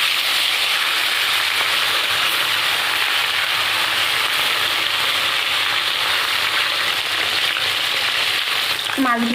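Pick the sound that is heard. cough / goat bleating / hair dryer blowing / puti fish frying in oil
puti fish frying in oil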